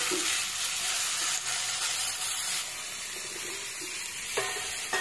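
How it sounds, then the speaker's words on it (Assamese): Onions fry in refined oil in a kadai for chicken biryani, a continuous bright crackling sizzle that eases slightly partway through, close by and without speech. "এতিয়া কেৰাহী বহাইছোঁ, ৰিফাইন দিছোঁ, পিঁয়াজকেইটা অল গোল্ডেন কালাৰ কৰি প্ৰথমতে ভাজি লওঁ।"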